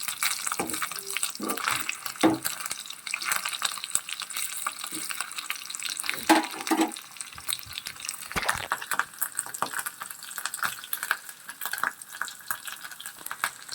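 Cubes of paneer fry in a kadai, a continuous crackling sizzle with scattered pops and occasional scraping or stirring sounds throughout, fairly close and moderately quiet.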